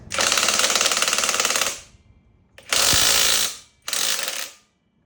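An impact wrench with a 14 socket removes bolts during cylinder head and block disassembly of a Sniper 150 motorcycle engine, buzzing in three loud bursts, a long one followed by two shorter ones, close by.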